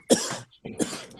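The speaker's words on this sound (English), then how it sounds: "we gotta let bro get the cough out" A man gives two sharp, close coughs, one quickly after the other, in a quiet room.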